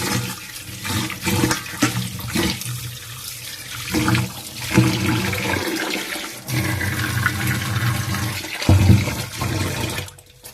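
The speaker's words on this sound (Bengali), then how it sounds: "চাল ডালটাও একইভাবে ধুয়ে নিচ্ছি।" Rice and lentils rinsed in water for khichuri, with continuous running and sloshing water, close swishing of grains and a few louder splashes and pours throughout.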